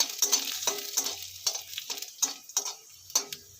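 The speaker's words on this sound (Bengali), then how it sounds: "তেলটা গরম হয়ে গেলে ফোড়নের জন্য দিয়ে দিচ্ছি কালো জিরে আর কুচিয়ে রাখা রসুন" Black cumin seeds, chopped garlic and a split dried chilli tempering in hot oil, heard as crisp sizzling bursts with repeated sharp clicks of a spoon stirring in the pan, no talk.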